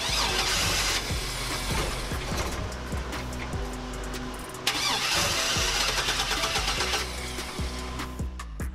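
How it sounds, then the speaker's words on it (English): A 1999 Chevy Astro van engine cranks repeatedly without catching, with a steady rapid starter churn that runs nearly the whole time, pauses briefly, then resumes, close and fairly loud. "it is a crank but no start issue"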